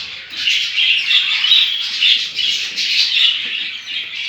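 A budgerigar in a home breeding cage chatters in a close, loud stream of warbling chirps and squeaky twitters that runs continuously without pause.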